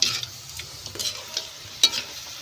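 A ladle scrapes and clacks through native chicken adobo in a hot pan, tearing the meat apart, with sharp metallic hits over a low sizzle; close, irregular strokes and no voices.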